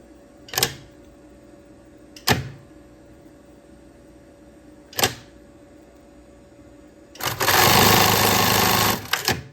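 A sewing machine runs a stitch along a small bow on lingerie. A few sharp isolated knocks and clicks come first, then a loud, steady whirring burst of stitching close by for about two seconds.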